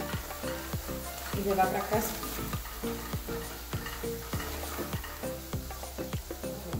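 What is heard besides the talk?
coconut milk sizzling in pan for crab filling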